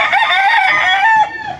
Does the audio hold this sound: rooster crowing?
yes